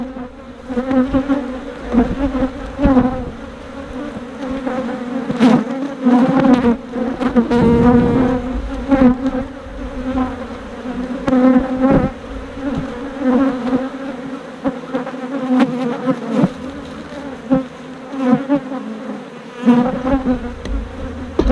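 Honey bees buzz loudly and continuously around an opened hive during comb honey harvesting, a dense droning hum with wavering pitch and close passes, no talk.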